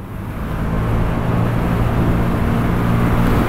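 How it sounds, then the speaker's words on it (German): Vespa GTS 300 and BMW C 400 GT scooters accelerating at full throttle from about 60–70 km/h, a loud steady engine drone mixed with heavy wind rush that builds slightly, heard up close from the rider. "jetzt werden wir mal hochbeschleunigen auf die 100"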